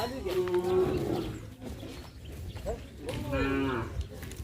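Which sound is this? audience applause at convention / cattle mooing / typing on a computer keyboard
cattle mooing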